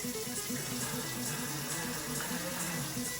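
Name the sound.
running tap water while washing hands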